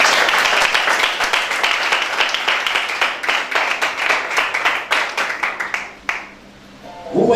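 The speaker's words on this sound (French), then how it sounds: "Je veux qu'on l'acclame pour tout faire." A church congregation claps together in a steady, fairly loud burst of applause that runs for several seconds, then tapers off and stops.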